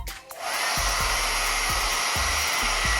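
A hair dryer blows steadily and loudly at close range while drying a freshly showered macaw parrot, a broadband rushing whoosh that starts up after a brief quiet moment and holds continuously.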